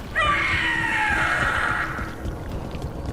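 A shrill, drawn-out scream from the Gloomhowler monster in Dragon Age The Veilguard, one loud wavering howl that rises sharply and then fades over about two seconds above a low rumbling background.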